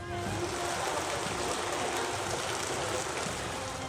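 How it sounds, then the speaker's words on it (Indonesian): Rain falls in a constant hiss of drops on surfaces, moderately loud and unbroken, with no voices. "sekitar lokasi pun tengah diguyur hujan lebat dan angin kencang"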